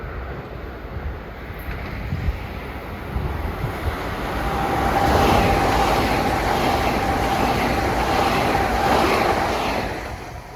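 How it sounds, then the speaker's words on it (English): New Haven Line commuter train 1442, running from Grand Central to South Norwalk, approaches at Mamaroneck. Its rumble swells gradually to a loud peak mid-way, a thin steady whine rides on top, then it eases off slightly. "Approaching is train 1442 from Grand Central to South Norwalk"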